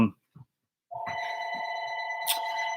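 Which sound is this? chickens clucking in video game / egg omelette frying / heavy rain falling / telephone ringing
telephone ringing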